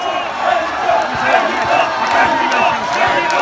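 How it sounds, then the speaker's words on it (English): A large, excited crowd gathered to watch a World Cup match in Prague cheers and shouts continuously, a dense wash of many voices with scattered whoops, loud and close throughout. "It's a big crowd. They're really excited."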